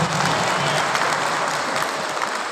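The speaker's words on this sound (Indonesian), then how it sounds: "Tepuk tangan yang meriah buat beliau." A crowd in a sports hall gives lively, sustained applause, a dense, even roar of clapping that stays strong throughout.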